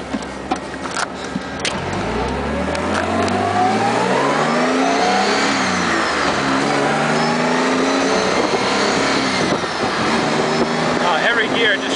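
A 1969 Jaguar on the road, engine revving up through the gears with rising and falling pitch at each shift, loud and close from inside the car, someone talking over it.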